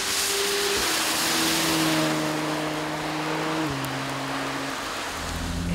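Heavy rain drums steadily on a Porsche 911 GT3, a dense, loud hiss that holds at a constant level, with a low engine hum droning beneath it.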